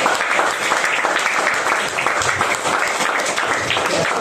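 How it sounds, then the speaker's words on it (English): Audience at a live comedy night at Seven Hills in Morley gives a loud, sustained round of applause, dense clapping holding steady throughout, close and full. "So I'll give it a round of applause for everyone."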